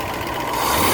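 A 1972 Range Rover's engine runs steadily with both carburettors connected, a continuous close rough mechanical drone that grows slightly louder toward the end.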